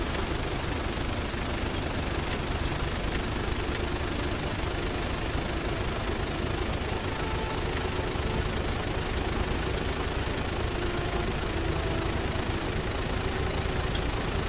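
A large boat engine at full throttle in Stormworks, a dense, unbroken roar with a low rumble that stays loud and constant throughout, no voices.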